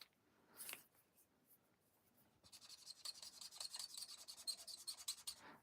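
Alcohol marker tips rubbing and squeaking on paper, a brief stroke then a quick run of rapid back-and-forth scratchy strokes, close and quiet.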